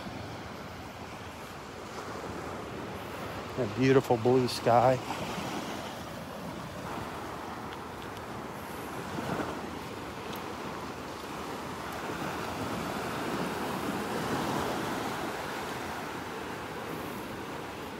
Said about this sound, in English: The sound of the little waves breaking on shore.